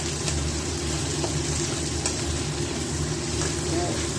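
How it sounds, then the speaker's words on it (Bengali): Onion, garlic and green chili frying in a little oil, giving a dense, constant sizzle that holds at an even level throughout, with faint background voices mixed in. "এবার অল্প একটু তেল দিয়ে পেঁয়াজ, রসুন আর কাঁচা লঙ্কাটা ভালো করে লাল লাল করে ভেজে নেব"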